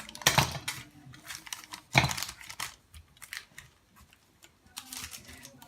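Excess almond-cake pastry dough being trimmed with a blade: two sharp, close scraping cuts stand out, followed by lighter ticking and scraping strokes, with no talking.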